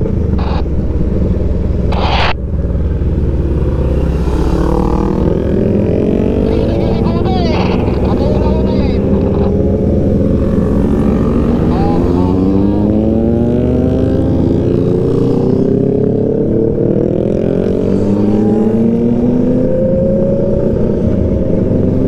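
A group of big-bike motorcycles rides together at about 40 on a provincial road, with a deep, steady engine rumble and rising and falling revs throughout. Someone talks over the noise.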